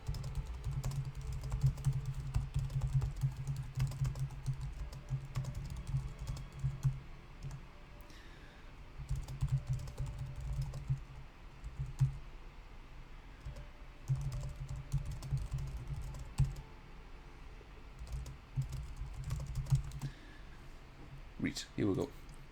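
Computer keyboard typing during a live stream, steady clicking keystrokes running through most of the stretch, fairly close, over a low background hum.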